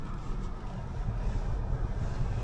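A car drives across the frozen Red River ice, giving a steady low engine and road rumble with broad noise, continuous and even throughout with no voices.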